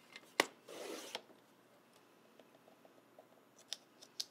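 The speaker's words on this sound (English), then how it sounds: "you'll notice I switched which directions I'm cutting on my trimmer" A paper trimmer slices a strip of scrapbook paper in one brief, close sliding cut, followed by a few faint clicks and small handling taps in an otherwise quiet room.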